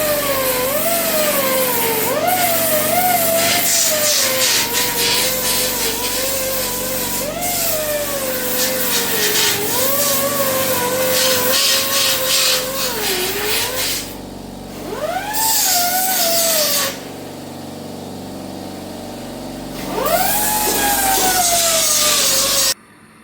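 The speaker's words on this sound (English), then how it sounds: "I've ground off the top of all these welds on here" A pencil grinder dresses down welds on the cowl of an HQ GTS coupe, a loud close high-pitched whine whose pitch wavers and dips under load, with two short pauses before it spins up again.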